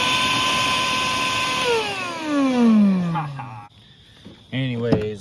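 An old, rain-soaked vacuum cleaner motor whines steadily, then winds down in falling pitch and cuts off, followed by a short burst of nearby talking.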